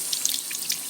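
Tap water runs steadily into a sink as a fidget toy is rinsed, a close, continuous splashing hiss with small irregular spatters, no voices.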